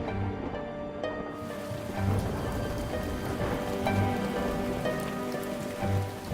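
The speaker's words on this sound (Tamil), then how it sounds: "ஐயோ, மறுபடியும் மழை வந்துடுச்சு" Steady rain falls in a dense hiss of drops on a surface, constant and fairly close, with faint low thumps pulsing underneath and no voices.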